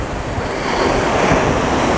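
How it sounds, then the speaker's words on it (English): Massive ocean waves crash close by on the San Diego shore, a loud continuous roar of surf that swells midway, with wind buffeting the microphone. "Some massive waves there"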